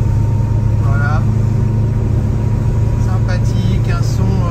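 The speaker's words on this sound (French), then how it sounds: "On sent qu'effectivement le moteur a retrouvé sa puissance" Studebaker car engine running while driving through a village, a steady loud low hum with a constant drone throughout, while a voice talks intermittently over it.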